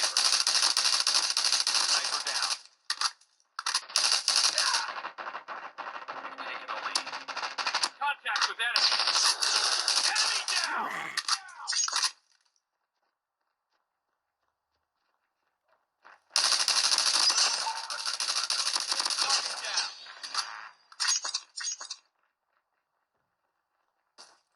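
Call of Duty Mobile gunfire plays on a tablet in long, loud bursts of rapid automatic shots. Two main volleys are separated by a stretch of near silence, and the clip ends quiet.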